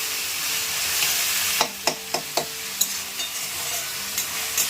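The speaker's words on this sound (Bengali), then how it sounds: "নুন টুন দিয়ে একটুখানি পেঁয়াজটাকে ভেজে নিই" Salted onion fries in a pan, a constant hiss of oil with a quick run of spoon scrapes and taps against the pan, then a few sparser stirs.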